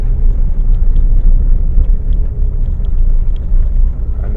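Heard from inside, a car climbs a road toward Morgan Bay in St. Lucia, its engine a loud, continuous low rumble with steady road noise and no talking.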